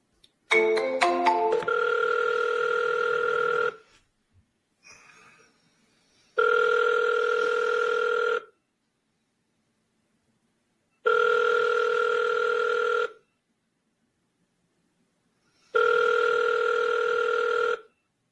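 An outgoing telephone call starts with a quick burst of dialing beeps, then rings back four times. Each even two-second ring is separated by a few seconds of silence, clear and alone.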